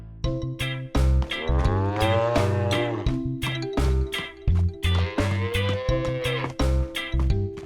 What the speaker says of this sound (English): Peppa takes care of the dairy cows.